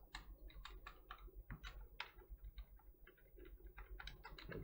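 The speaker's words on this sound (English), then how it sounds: "Hoping the keyboard noise isn't too loud." Computer keys clatter in quick, irregular bursts of clicks while someone plays games, the typing close but quiet against a soft room hum.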